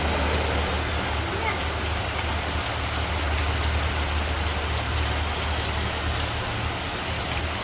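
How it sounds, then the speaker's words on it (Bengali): Steady rain pours down near a village outdoor cooking area, a dense continuous hiss with a low rumble beneath it and no break across the stretch. "অনেকক্ষণ যাবত বৃষ্টি নামতেছে।"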